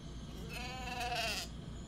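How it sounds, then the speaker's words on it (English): A lone sheep tethered to a stump in a video game gives one drawn-out, wavering bleat that rises and then fades, heard over a quiet, steady background. "At least, that's what I imagined the bleat to mean."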